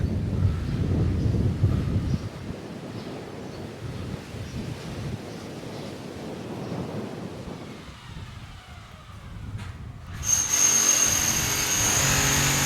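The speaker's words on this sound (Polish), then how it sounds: "Musi wiać wiatr." Strong mountain wind near Valldemossa, Mallorca, buffets the microphone in heavy rumbling gusts, easing midway before a sharp, hissing gust returns at the end.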